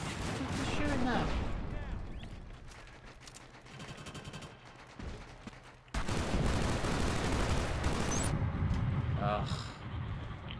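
Dense gunfire rattles through an online multiplayer match of Killzone Shadow Fall on an extended forest warzone map, with bursts of automatic fire and sharp shots under a constant din of battle.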